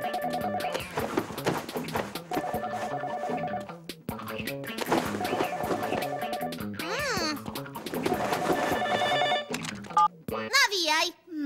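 A telephone rings repeatedly with a bright electronic tone in the animated series W.I.T.C.H., mixed with music and other sounds, and one louder trill near the end.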